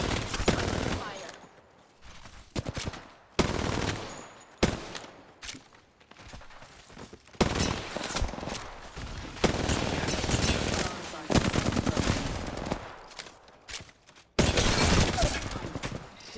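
Repeated bursts of automatic gunfire from the Apex Legends video game, loud and close, coming in sharp volleys broken by short pauses, with players talking now and then between shots.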